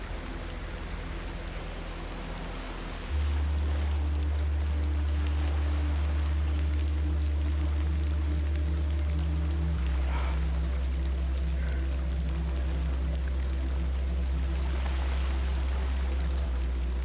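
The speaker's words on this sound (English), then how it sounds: "In the rain." Steady, heavy rain pours down for the whole stretch, a dense hiss of drops on a surface with a low rumble underneath and no voices.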